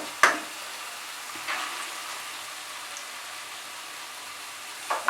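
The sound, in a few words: frying masoor dal with spices in a pan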